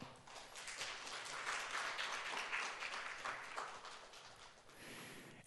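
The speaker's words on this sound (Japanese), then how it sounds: "拍手でお迎えください。" An audience applauds at a community college festival forum in Arakawa, Japan, welcoming speakers, a soft, continuous spread of many hands clapping heard from some distance, tapering slightly toward the end.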